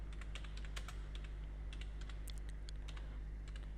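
Rapid, irregular keystrokes on a computer keyboard while a short narration is typed into Tally Prime accounting software, close and clear over a steady low electrical hum.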